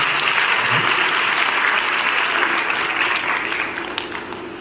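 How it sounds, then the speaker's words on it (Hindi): Sustained audience applause fills a college hall at a Brahma Kumaris talk, dense and steady clapping that slowly thins toward the end, with no voices over it. "तालियां कौन बजाएगा?"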